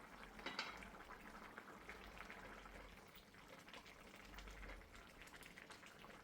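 Beef simmers in a clay pot, giving a steady bubbling boil with a broad hiss that holds at an even level throughout. No voices are heard.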